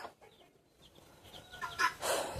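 Chickens cluck and squawk softly at first, then louder toward the end, with a rustling flurry close by.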